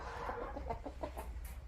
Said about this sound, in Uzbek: endi ana bu tovuqimiz kiryapti.